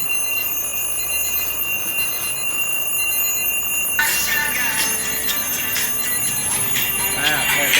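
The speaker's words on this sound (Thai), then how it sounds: "นาฬิกาปลุกอีกเรือนครับ ซึ่งดังมาก เข้าไปในกล่อง" A loud, continuous alarm clock ringing inside a box, sounding slightly muffled, with a busy mix of other noise and talk around it.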